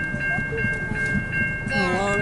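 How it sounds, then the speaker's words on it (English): A CN local freight train passes close by, a continuous low rumble of rolling cars with steady tonal squeals and rhythmic clicks, and speech is briefly heard over it. "A long train."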